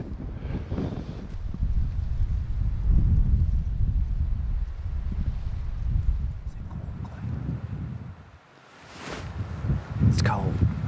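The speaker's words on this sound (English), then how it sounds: "The wind's blowing pretty hard." Strong cold wind buffets the microphone in the Alaskan wilderness, a loud, rumbling gusting roar that eases briefly before surging back.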